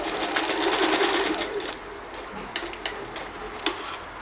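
Sewing machine running a long basting straight stitch on scrap fabric, a fast even whirring rattle that stops partway, followed by a few quiet clicks and handling sounds.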